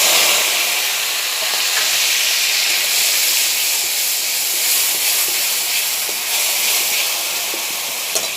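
A paste of ginger, onion, garlic, green chili, tomato and a little poppy seed frying in a pan, giving a loud, steady sizzle and hiss with faint stirring that continues throughout.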